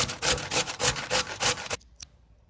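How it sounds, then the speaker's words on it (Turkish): Quick, regular scraping strokes of potatoes on a grater, close up, stopping abruptly and followed by a couple of faint clicks. "Patatesimi de rendeliyorum."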